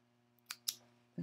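Scissors snip through fabric for bias binding in a sewing class, two quick sharp close cuts in succession over a faint steady hum, with no talk.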